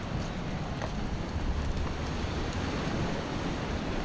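Mediterranean Sea waves wash along the shore in Turkey, a broad continuous surf roar mixed with wind buffeting the microphone, steady and moderately loud with no voices.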